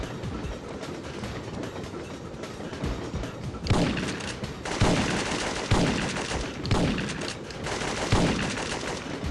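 Syphon Filter 2 shotgun fire: a run of heavy, booming blasts spaced a second or so apart over a rumbling, clattering background, loud and near.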